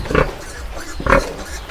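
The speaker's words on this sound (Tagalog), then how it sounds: "Ang laki ng mga baboy." Large pigs on a farm, giving two loud, close grunting squeals about a second apart over a steady low background rumble.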